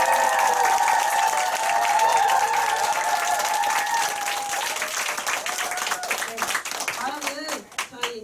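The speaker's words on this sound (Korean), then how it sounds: "큰 박수 부탁드립니다" An audience at a company group seminar gives sustained applause that fades into scattered individual claps, with a voice speaking over the opening seconds.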